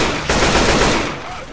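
Rapid automatic gunfire from Left 4 Dead 2 during the Blood Harvest campaign, a dense sustained burst that starts abruptly and stays loud throughout before tapering slightly.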